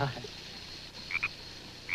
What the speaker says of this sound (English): I think the frog has left Muffy's bathtub